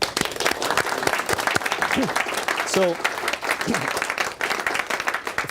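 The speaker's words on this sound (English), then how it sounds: "Round of applause." Audience applause in a room after a morning-routine exercise, steady dense clapping throughout with a voice speaking over it and a few brief vocal sounds.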